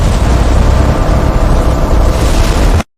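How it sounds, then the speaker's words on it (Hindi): A loud, roaring storm effect with strong wind and lightning rumble surges continuously for nearly three seconds, dense and booming, then cuts off abruptly to silence. "बिजली चमकी और तेज आंधी चलने लगी।"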